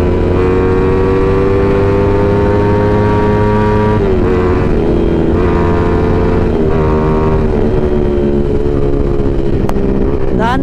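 A Suzuki Raider 150 Fi motorcycle engine runs loud and close, holding a steady droning note whose pitch rises and dips as the throttle and clutch are worked. There is a brief sharp lift near the end.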